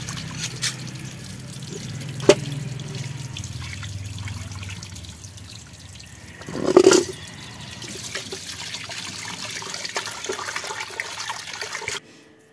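Toor dal (pigeon pea lentils) is rinsed under running water, a soft continuous trickle and splash with a brief louder gush midway before the flow cuts off.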